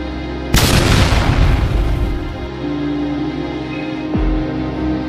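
An artillery gun fires in a war film scene, a heavy, loud boom with a long rumbling tail, followed a few seconds later by a second, shorter thump over a steady low background drone.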